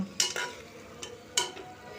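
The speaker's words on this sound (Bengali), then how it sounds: "আরও আমি মশলাটাকে একটু ভালো করে কষি নেব যতক্ষণ না মশলা থেকে তেল ছাড়ছে" Spice paste stirred and sautéed in oil for a Bengali raw jackfruit curry, with a few short scraping stir strokes and a soft sizzle under them, close and fairly quiet.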